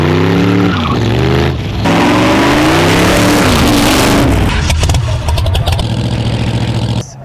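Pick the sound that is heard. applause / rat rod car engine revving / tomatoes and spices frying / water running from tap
rat rod car engine revving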